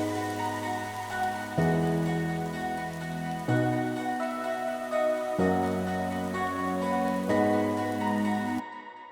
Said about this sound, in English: With the rain, I'm just going to add it in right there